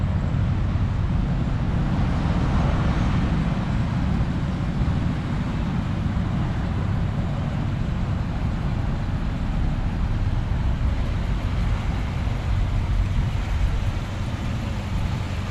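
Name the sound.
1966 Ford Galaxie 500 engine running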